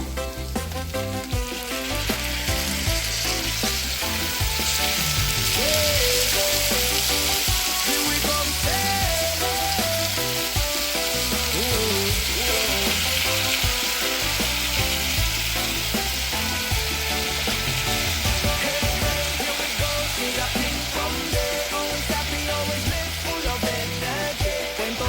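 Pork sizzles and fries in a pan for igado, a steady loud crackling hiss that runs without pause, with faint background music and no talking.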